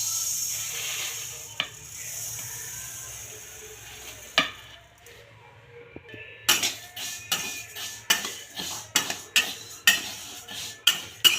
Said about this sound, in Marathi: इथे मी कढई तापत ठेवलेली आहे, त्यामध्ये आपण थोडे थोडे प्रमाणात तीळ भाजून घेऊया